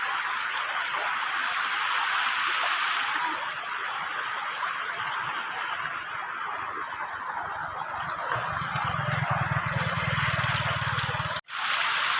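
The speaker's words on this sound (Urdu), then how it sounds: "یہ جو آپ کو آواز آ رہی ہے یہ پانی کا شور ہے" Loud rushing water of a stream along a road in Kashmir, a broad continuous hiss and roar that stays steady throughout, with a low engine rumble rising briefly near the end and no talking.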